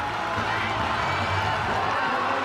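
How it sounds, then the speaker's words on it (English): Indoor arena crowd at a world championship men's 3000 m final roaring continuously and loudly, a dense, even wall of cheering noise. "Listen to the noise of the crowd."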